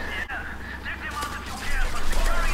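Modern Warfare 3 Spec Ops gameplay gunfire crackles in bursts beneath excited voices that talk throughout, the shooting growing louder and denser toward the end.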